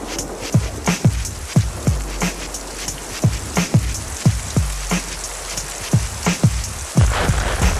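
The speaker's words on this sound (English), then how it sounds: "It's raining like cats and dogs like I've never seen before." Heavy rain storm over Fifth Ward, Houston, a dense, loud hiss of downpour with sharp, irregular drops or splashes hitting a nearby surface every half second or so.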